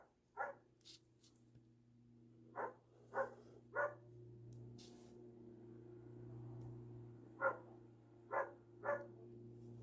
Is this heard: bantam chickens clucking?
no